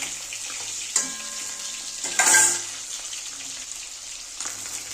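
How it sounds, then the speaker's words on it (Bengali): Katla fish sizzles in hot oil in a Bengali-style home kitchen, a steady close crackle running throughout, with a brief louder burst of spattering near the middle as the fish is handled. "দেখো মাছটা ভাজা হয়ে গেছে, এবার আমি তুলে নেব।"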